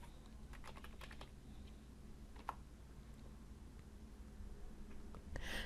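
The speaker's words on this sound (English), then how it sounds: "you can actually type in on the search field the client's ID" Typing on a computer keyboard into a search field, a few quiet, scattered key clicks in short clusters, close and faint with a slightly louder tap near the end.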